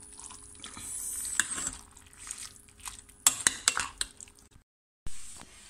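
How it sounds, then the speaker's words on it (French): Meat stirred in a pan on a switched-off stove, a spoon scraping and clinking against the pan with wet sizzling texture, close and busy, then brief silence before another scrape. "Et je mélange."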